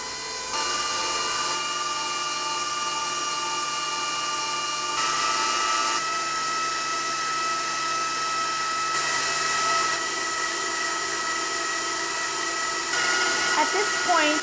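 An electric mixer whips eggs and sugar at high speed for a white sheet cake batter, giving a loud, steady motor whine with a faint pitch shift partway through, alone with no voices.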